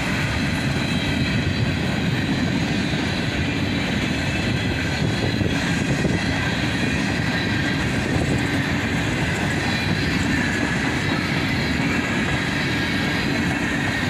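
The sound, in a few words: freight train of hoppers passing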